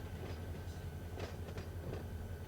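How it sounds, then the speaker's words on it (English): A locomotive in the Run8 Train Simulator video game rumbles along steadily with a low, droning engine and faint rhythmic rail clatter, even and continuous throughout. "we have a locomotive, and we're taking it somewhere."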